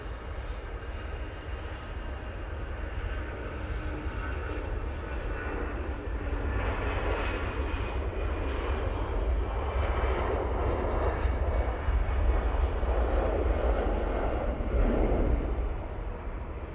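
An easyJet airliner departing Manchester Airport for Paris Charles de Gaulle, a broad, steady engine roar that builds slightly and holds, loud and continuous without voices.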